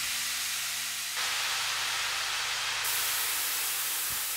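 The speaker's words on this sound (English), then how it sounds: "And then the valves, these are steam." Steam valve sample from the Waverunner Audio Celestial Guitar instrument, a broad hissing rush of steam that steps up in brightness partway through and then holds steady, with no voices.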